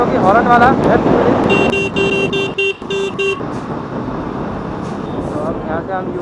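A car horn honks in several short, loud blasts over steady road and engine noise, with a voice talking throughout.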